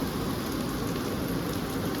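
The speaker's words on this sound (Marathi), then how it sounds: "हे बघा हा बघा असला पाऊस चालू आहे" Heavy rain pours down on a house in a dense, continuous roar, loud and close, with low rumbling underneath and no voices.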